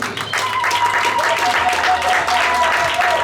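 An audience at a women's convention claps steadily and loudly, dense applause filling the room throughout, with voices mixed underneath.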